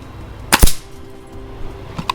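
A single sharp shot from an FX Wildcat MK2 air rifle fired at a 20 m target, loud and close with a crisp snap, followed by a faint later click.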